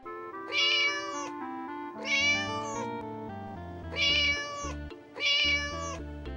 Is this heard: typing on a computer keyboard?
no